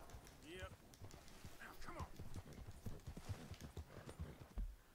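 Horse hooves clip-clopping in quick rhythm while riding in Red Dead Redemption 2, a steady run of close thuds with a brief whinny early on, faint and low in the mix.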